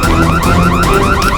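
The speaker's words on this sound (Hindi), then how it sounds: "ये अलार्म कैसा?" Alarm ringing from a stuck lift, a loud repeating electronic warble that rises in steady pulses about every fifth of a second over a constant low hum, with no voices.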